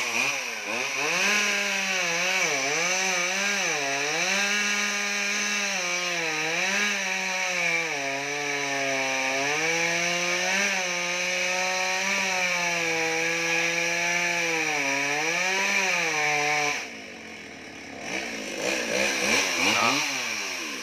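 A chainsaw roars steadily for a long stretch, its engine pitch rising and falling as it cuts into a coconut tree, then briefly drops before revving again.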